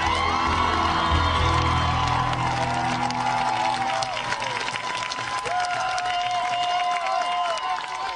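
A large crowd cheers, whoops and applauds loudly and continuously as a speaker takes the stage at a political rally, with shouts rising over the steady roar.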